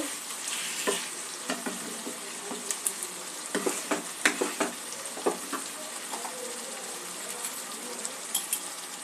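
Chicken pieces sautéing in a pan with a splash of spice water for chicken masala, an even sizzle broken by repeated spoon scrapes and light metallic taps, moderately quiet.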